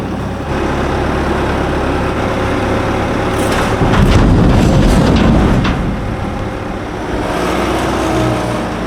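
A Bobcat skid steer loader runs on rough property ground with a loud steady diesel engine drone, swelling midway into heavier revving with clanking and rattling, then settling back; no talking.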